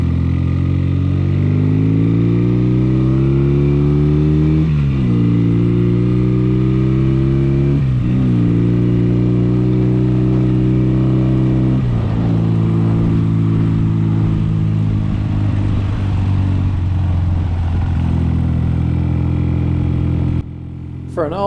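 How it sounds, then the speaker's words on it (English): A 1972 BSA Lightning 650 classic 180-degree twin-cylinder motorcycle engine runs loud and close, revving up repeatedly in rising surges that climb and drop back, with a throbbing, steady idle between. "But the engine sounds beaut."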